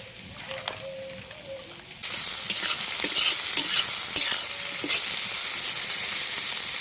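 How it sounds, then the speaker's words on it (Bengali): Chopped onions with salt and turmeric fry in oil and are stirred in a pan. A quieter stretch of scraping turns into a loud, continuous sizzle with repeated stirring scrapes close by, and no one speaks. "পেঁয়াজ হালকা ভাজা হয়ে গেছে"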